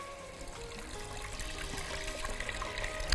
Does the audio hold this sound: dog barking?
no